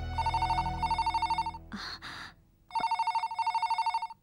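A telephone bell rings loudly in repeated bursts, pauses amid a brief gasp and rustle, then rings again in the same steady pattern, clear and close.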